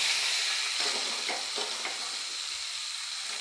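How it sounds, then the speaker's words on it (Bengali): Onion, garlic and tomato hit hot oil seasoned with cumin, giving a loud, steady sizzle that fills the whole clip, with a few soft stirring scrapes in the middle and no voices. "এবার পেঁয়াজ, রসুন, টমেটোটা দিয়ে দেবো।"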